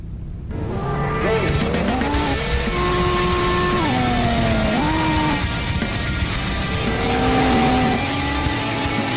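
Cars racing in an illegal street race, engines revving loud and continuous with rising and falling pitch as they shift through gears, roaring steadily for about nine seconds without speech.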